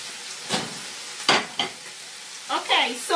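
Pieces of meat frying in a pan on a kitchen hob, a soft steady sizzle broken by a few sharp scraping stirs and turning sounds, close and moderately quiet with no talking.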